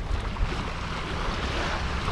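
Sea waves surge and wash against a stone embankment at a rocky beach, a steady broadband roar of surf with wind noise buffeting the microphone, no voices.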